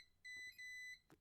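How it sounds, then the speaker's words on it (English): A barcode scanner gives off high electronic beeps, two steady tones of about a third of a second each with a short gap between them, loud and close, followed by a brief soft knock. "my scanner for some reason just randomly beeps like that."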